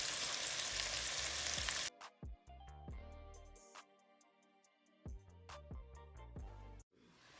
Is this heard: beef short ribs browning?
yes